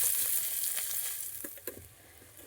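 Cardamom, cloves and bay leaves frying in hot oil give a steady, close sizzle that slowly fades, with a few sharp pops and crackles partway through.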